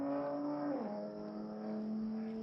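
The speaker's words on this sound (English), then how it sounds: "Race car driving by." A race car roars past close by, its engine whine dropping sharply in pitch as it passes, then holding a steady lower drone as it pulls away.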